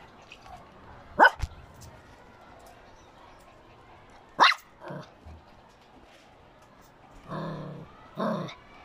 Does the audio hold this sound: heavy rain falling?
no